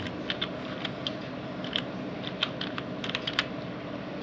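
Fingers tap a computer keyboard in quick, irregular bursts of light clicks, close up over a steady background hum, with no voices.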